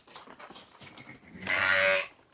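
Sheep in a flock being shown for sale, with a single loud, close bleat near the end after quieter low animal sounds and shuffling.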